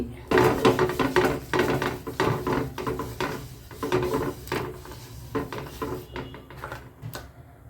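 A metal dosa griddle is set on a kitchen stove while making bottle gourd adai, giving a run of clanks, scrapes and knocks of metal and utensils in an uneven rhythm, close and moderately loud.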